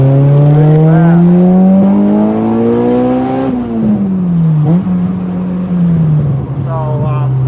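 A Honda Civic with a K20 engine accelerates hard, its loud rising engine note climbing steadily before a brief dip and another pull, heard up close from inside the car.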